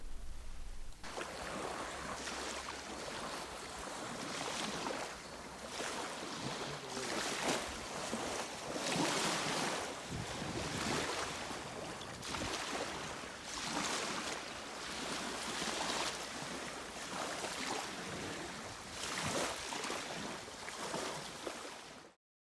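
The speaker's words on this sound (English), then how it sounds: "I'm just going to leave you with some sights and sounds of Sanibel Island." Beach ambience on Sanibel Island, with continuous surf washing in and out under gusting wind, fairly quiet and steady with no voices.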